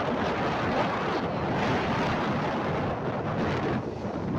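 Sea waves breaking on a shore, a continuous loud wash of surf with wind buffeting the microphone throughout, with no voices.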